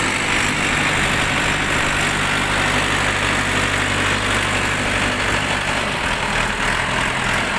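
A two-cylinder Shifeng 404 C Chinese mini tractor engine idling steadily and loud, a constant low chugging drone with a faint mechanical rattle throughout.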